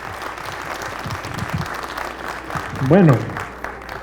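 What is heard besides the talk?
audience applause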